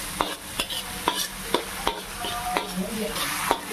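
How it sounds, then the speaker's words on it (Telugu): Something frying in a pan until light brown is stirred in a regular rhythm, with about eight close scraping taps roughly half a second apart over a steady sizzle and no voices. "ఇది లైట్ బ్రౌనిష్ కలర్ రావాలి, అప్పుడు దాకా మనం ఫ్రై చేద్దాం."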